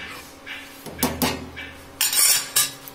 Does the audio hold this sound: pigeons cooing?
no